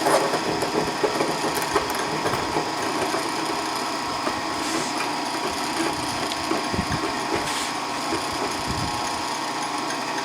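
A carbide drill bit grinds continuously into metal, a harsh high whine with rattling and scraping throughout, no voices.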